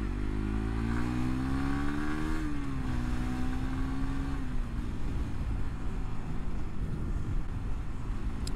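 A motorcycle engine drones steadily while riding, its pitch climbing then dropping as the rider shifts and settles into a constant speed, with loud wind rush throughout and no voices.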